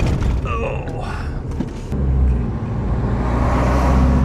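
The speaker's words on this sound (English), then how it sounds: "I just waved that car on." A car passes on a partly paved rural road on the way to Silver City, Utah, ghost town country, a steady close rumble of engine and tires that swells in the second half under the hum of the vehicle the listener rides in.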